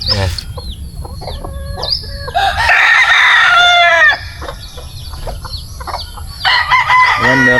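A White Kelso rooster crows loudly and nearby several times, with clucking and other fowl calls mixed in around it outdoors on a farm.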